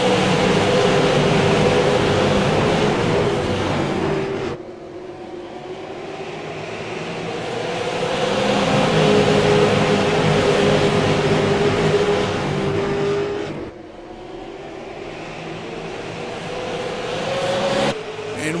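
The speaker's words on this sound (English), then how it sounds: "They make their way through turn number 4 into the front stretch on the throttle." Race cars at Irwindale Speedway come through turn four onto the front stretch on full throttle. A loud, sustained engine roar rises and falls as the field passes, with no talk.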